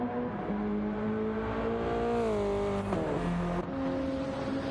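Race car in GT2 racing game accelerating hard, a steady high-revving engine whine climbing in pitch, dropping at a gear shift, then rising again, close and continuous.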